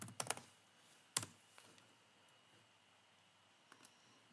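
Sparse keystrokes on a computer keyboard, a few quiet clicks clustered at the start and scattered later, faint, with long near-silent gaps between.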